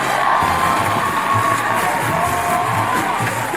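A theatre crowd cheers and applauds for a stage host, a loud, dense wall of whoops and clapping that holds steady throughout with no pauses.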